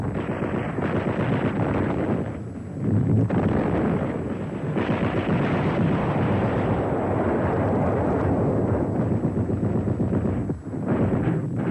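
Wartime bombing and artillery fire during the Spanish Civil War retreat toward the international bridge into France, a dense continuous roar of blasts and rumbling with a brief lull near the start, loud throughout.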